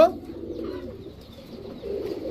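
High-flyer Giribaz pigeons at a sale coo softly and continuously nearby, a low, murmuring burble that rises and falls across a couple of seconds.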